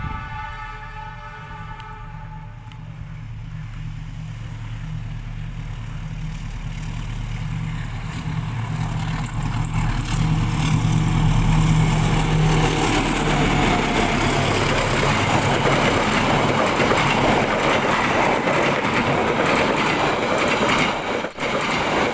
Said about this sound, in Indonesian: Sesaat lagi kereta api Argo Wilis akan melintas di area sekitar sini.